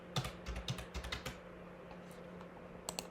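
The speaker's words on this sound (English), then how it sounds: "So we're going to type cystitis" Keystrokes on a computer keyboard typing a single word: a quick burst of crisp clicks in the first second and a half, then a pause and a couple of final taps, close and fairly quiet over a low steady hum.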